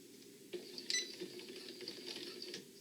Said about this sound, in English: I'm going to start out real slow, and I'm going to do one back stitch.